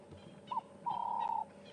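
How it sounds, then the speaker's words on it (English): A Cape turtle dove calls on a safari drive in the South African bush, a short coo followed by a longer, steady mellow note, moderately distant and clear against a quiet background. "Cape turtle dove calling in the background."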